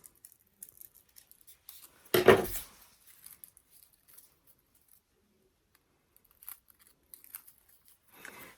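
Scissors snip through paper while cutting paper carnation petals, one loud crisp cut burst near the start followed by faint rustling and light handling of the paper.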